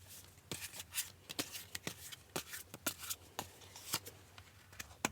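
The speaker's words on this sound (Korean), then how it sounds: "그러면 여러분들에게 도움이 될 만한 조언 카드 한 장 뽑아볼게요" Tarot cards being shuffled and drawn, a string of quick crisp riffling snaps and soft card slaps in an irregular rhythm, close and fairly quiet, with no talking.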